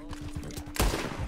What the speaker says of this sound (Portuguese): Pô, toda vez eu atiro.